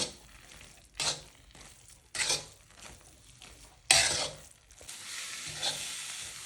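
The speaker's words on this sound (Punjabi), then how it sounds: "ਘਿਓ ਨੂੰ ਚੰਗੀ ਤਰ੍ਹਾਂ ਮਿਕਸ ਕਰਕੇ ਆਪਾਂ 2-3 ਮਿੰਟ ਲਈ ਪਕਾ ਲਵਾਂਗੇ" Gajar pak, a carrot sweet, is stirred and cooked with ghee in a pan: a soft low sizzle broken by four loud scraping strokes of a spoon, each followed by a quieter hiss.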